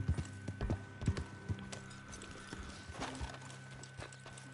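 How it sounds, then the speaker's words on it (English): Hooves clip-clop on the ground in the Red Dead Online video game as a skittish horse shuffles and stamps, with a brief whinny; the steps are close and irregular, heard alone without talk. "Whoa, settle down, horse."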